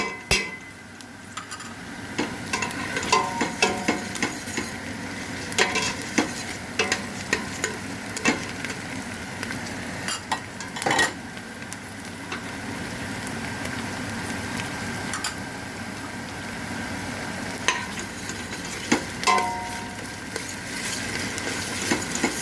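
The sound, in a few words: tomato paste and onion sautéing in a pan for dry bean stew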